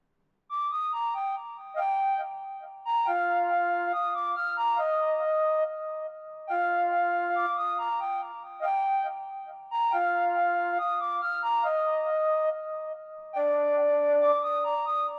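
Two flutes, processed slightly differently and panned apart, play a repeating melodic trap phrase together. Short bright figures sit over a lower sustained note and recur in bursts of about three seconds at a moderate level.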